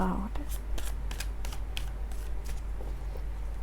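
Tarot cards are shuffled in a string of quick papery riffles and soft slaps, close and steady over a low background hum, with a brief voice at the start.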